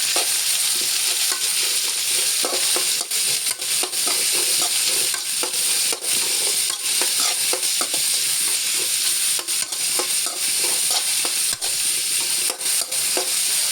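Onions and green chillies fry and sizzle loudly in a pan, with a constant hiss and frequent sharp scraping stirs of a spoon, close up and without talk.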